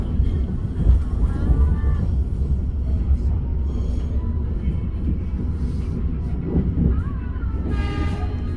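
Commuter Line Blorasura passenger train running between Bojonegoro and Benowo, heard from inside the carriage as it slows: a steady low rumble with faint wheel clatter and brief high squeals near the end.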